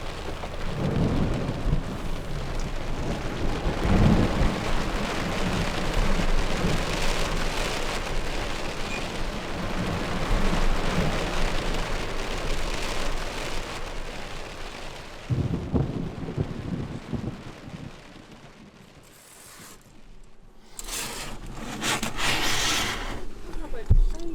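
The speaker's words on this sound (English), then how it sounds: "it's raining now" Steady rain in Canada hisses throughout with a few low rumbles of thunder, voices briefly audible, and a quieter lull before the downpour swells again.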